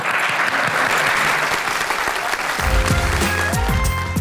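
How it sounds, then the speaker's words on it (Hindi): A television studio audience bursts into applause on a talk show, dense close clapping that holds steady throughout, with a brief voice and a musical sting entering near the end. "तालियां बजाएं"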